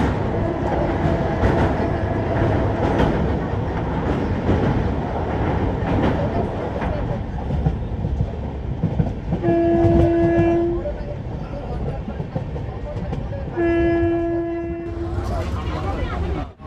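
Darjeeling Mail train rumbling across the Mahananda river, a steady loud roar of wheels and carriages with rhythmic clatter, broken by two long horn blasts near the end.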